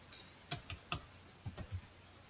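Several keystrokes on a computer keyboard as a script path is typed: a quick burst of three clicks, a pause, then three softer taps, close and clear in a quiet room with no talk.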